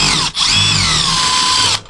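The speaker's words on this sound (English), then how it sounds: "now we're going to take out these two anchor bolts here" A loud, close power tool whines and rises in pitch while backing out anchor bolts on an Airstream rooftop air conditioner, stopping for an instant before a second long run that cuts off sharply.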